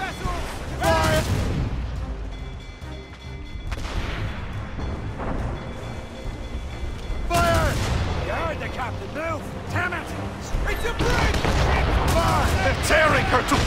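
Ship cannons booming in a naval battle in Assassin's Creed Rogue, with heavy repeated blasts over a constant rumble of wind and sea, while crew voices shout throughout.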